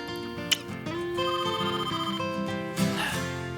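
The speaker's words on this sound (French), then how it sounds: "Tu peux répondre au téléphone, s'il te plaît?" An indoor telephone rings in a repeating, steady ringtone at moderate volume, with no one speaking over it.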